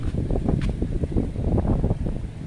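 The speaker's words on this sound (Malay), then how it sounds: "Angin kuat lah kat sini." Strong gusts buffet the microphone near a lift bridge in Kuala Terengganu, a heavy low rumbling roar that pulses unevenly without pause, with no voices.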